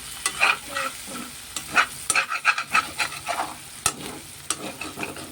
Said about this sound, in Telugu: ఫ్రై చేస్తున్నాను.